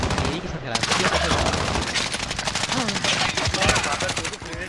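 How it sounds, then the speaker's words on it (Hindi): Rapid bursts of automatic gunfire in Call of Duty Warzone, shots fired at vehicles, a dense loud rattling of repeated cracks continuing throughout with players talking underneath. "मैं गाड़ियों को गोलियां मार रहा हूं"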